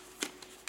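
White regular computer paper being folded into an origami gannet: a few quick, crisp crinkles and rustles, close and faint, with no talking.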